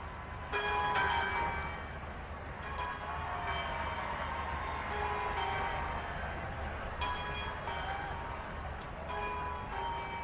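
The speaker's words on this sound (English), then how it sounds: "Listen to the bells." Church bells peal continuously during the 2012 Diamond Jubilee celebrations in Britain, a rich overlapping cascade of ringing tones, fairly distant and steady, with no one speaking.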